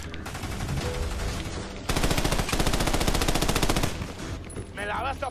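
Sustained automatic machine gun fire in the video game Army of Two: The Devil's Cartel, loud and continuous in rapid rhythmic bursts for several seconds, with a stronger volley in the middle and a voice at the end.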